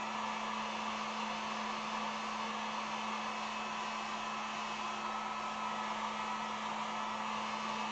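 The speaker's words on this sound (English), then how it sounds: "Let me hit this with just a blow dryer, or I mean the heat gun" A steady, even whir of hot air blowing from a heat gun drying acrylic paint on a wooden sign, with a constant hum and no interruptions.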